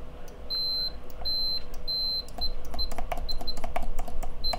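An original Fluke 77 multimeter's continuity tester beeps in short, clear, high-pitched bursts. Steady tones at first give way to quicker, choppier chirps over a low hum, with no talking.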